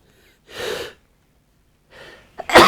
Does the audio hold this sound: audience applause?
no